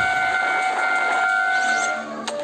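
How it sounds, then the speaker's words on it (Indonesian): A speeding train at a level crossing rolls loud and steady with sustained horn-like tonal lines, a sharp impact burst near the end as it strikes the rear of a car, then a lower rumble trailing off. "Kereta api yang melaju kencang tanpa ampun menghantam bagian belakang mobil hingga ringsek berat"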